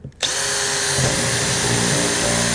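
A power drill drives 2-inch screws into the wooden framing of a skate box, its motor whirring loud and steady and close by after a brief quiet start, with pitch dips as the screws bite.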